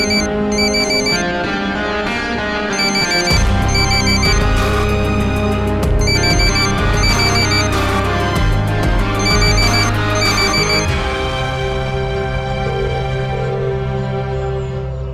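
A telephone rings on and on with no one picking up, its repeated electronic ringtone pattern loud and steady for the whole stretch with no voices.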